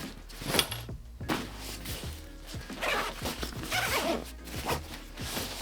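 A single long zipper on a Peak Design duffle bag is run around its clamshell opening in several quick zips. The rasping strokes come up close and loud, with soft handling thumps and rustles between them.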